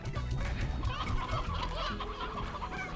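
Chickens in the video game Slime Rancher clucking and bawking repeatedly over a busy background of game music and ambient sound, fairly close and continuous.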